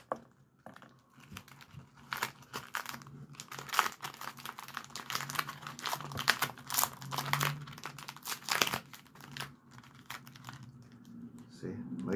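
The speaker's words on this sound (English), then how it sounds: "We're just going to keep sticking tape all the way around till we form the" Masking tape crackles and crinkles as strips are pulled and pressed around a skull-shaped form, a steady run of dry rustling and tearing close up, with voices speaking over parts of it.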